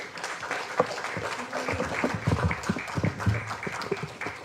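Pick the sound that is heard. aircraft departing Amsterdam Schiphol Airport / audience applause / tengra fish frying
audience applause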